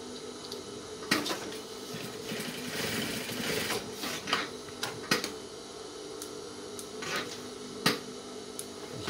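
Sewing machine stitching the waistband of men's trousers, a steady mechanical whir with sharp clicks and brief pauses, close and moderately loud with no talking.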